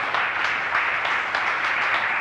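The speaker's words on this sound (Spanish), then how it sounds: "Vamos a darle un aplauso de bienvenida a Ana Rossetti y a Alejandro Simón Partal." An audience at a literary event at CC La Malagueta gives sustained welcoming applause for the poets Ana Rossetti and Alejandro Simón Partal: steady, even, fairly close clapping with no voices over it.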